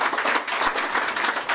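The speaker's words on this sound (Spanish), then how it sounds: "Pues un aplauso para ambos compañeros" Audience applause for two speakers at a Spanish-language talk, a dense, steady patter of many hands clapping in a hall, fairly loud and continuous with no break.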